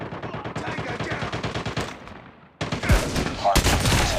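Call of Duty gunfire against bots sounds as a fast, evenly spaced automatic volley, then a short lull and louder, sharper bursts, with a voice faintly under the shooting.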